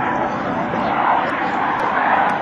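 An F/A-18C Hornet jet approaching slowly at an airshow, gear, flaps and tail hook down, gives a loud, steady roar throughout, with an announcer talking over it.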